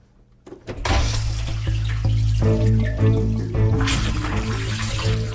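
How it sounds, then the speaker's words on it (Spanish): A dishwasher loaded with everyday dishes and detergent runs its wash: after a brief start, a loud, steady rush of spraying water with faint clinks and hum, continuous and close, with no voices. "Cogimos un lavavajillas, lo llenamos con los platos normales de cada día y le pusimos un detergente."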